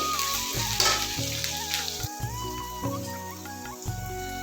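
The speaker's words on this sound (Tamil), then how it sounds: "இதில் பாருங்கள் பச்சை மிளகாய் போட்டுக்கலாம் இது நல்லா வதங்கட்டும்" Green chilies frying in a pan for fish curry, a steady close sizzle running throughout while background music with sustained tones plays over it.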